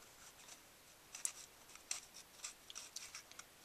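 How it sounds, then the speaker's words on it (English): A scallop trim border punch cuts Old Olive cardstock, giving a quiet run of faint, crisp snips and clicks spaced irregularly, up close and alone. "I'm going to do a border out of some Old Olive with the scallop trim"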